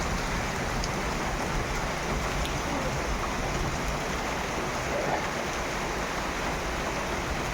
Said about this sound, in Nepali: यस्तो पानी परिरहेको